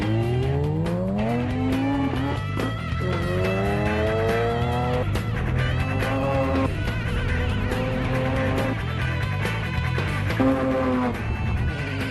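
A street car accelerates hard in second gear, its engine climbing through rising revs with repeated sharp upward sweeps, loud and close, with tire squeal and no talk.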